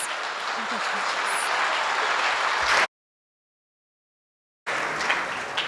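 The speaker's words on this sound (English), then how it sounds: "A round of applause, please." Guests at a gala dinner break into steady applause, a dense, even patter that cuts off abruptly to silence and then resumes partway.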